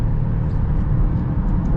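An Alfa Romeo Stelvio Quadrifoglio performance SUV with all-wheel drive accelerating hard: a deep, steady engine drone, close and continuous throughout, with no voices.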